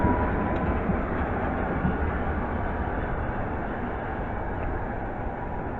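A London Underground Metropolitan line train pulls away at Pinner station on its run from Amersham to Baker Street, a loud, dense, steady rumble and roar that holds throughout with no talk.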